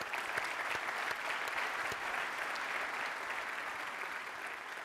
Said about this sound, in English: Yep, a big applause.